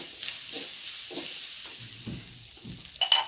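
A grated coconut mixture fries in hot oil, giving a soft, steady sizzle broken by several quiet bursts of stirring and scraping, with a brighter crackle toward the end.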